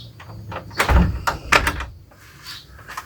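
A homemade bedroom door swings shut with a solid thunk and a couple of knocking clatters, close and fairly loud, followed by quieter rattling as it settles.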